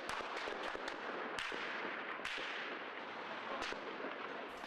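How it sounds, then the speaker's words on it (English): Sustained bursts of gunfire in Kiev during street clashes with protesters, dense crackling reports with several sharper shots, heard at a distance with no speech. "This morning, Kiev again awoke to the sound of gunfire."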